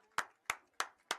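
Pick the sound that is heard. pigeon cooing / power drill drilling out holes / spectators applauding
spectators applauding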